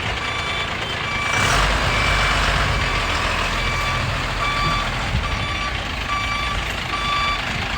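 A truck backs into position at a pond where fish are being loaded. Its steady, regularly spaced reversing beeps repeat throughout over a continuous engine rumble.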